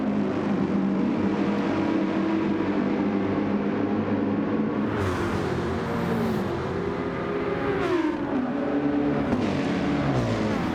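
Race cars in Gran Turismo 7 during a BTCC replica league race drone and rev in a dense pack, engines layered with rising and falling pitch, steady and loud with no pauses.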